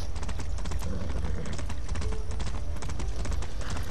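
Horse hooves clip-clop steadily and close in Far Cry 6, a continuous rhythmic patter of footfalls over low rumbling game ambience, with no talk over it.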